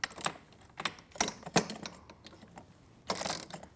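Metal clicks and ratcheting taps of an Allen wrench tightening a bolt on a Studio Pilates reformer with metal risers, a few irregular close clicks and a brief scraping burst near the end, fairly quiet.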